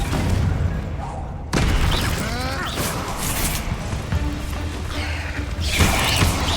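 A Confringo blasting spell explodes in the Hogwarts Legacy video game, giving a sudden loud boom with crashing debris and rumbling, followed by further blasts, with a voice underneath.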